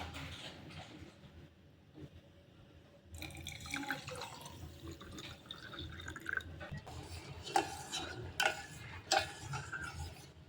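Sugar water is poured into a glass and stirred while making shankarpali, with a trickling pour followed by clinking, dripping taps and swirling liquid, close and fairly quiet.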